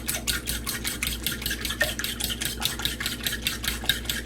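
Milk is whisked into a French toast batter of cracked egg in a bowl, with rapid rhythmic stirring strokes clinking steadily against the sides, close and fairly loud, no talking.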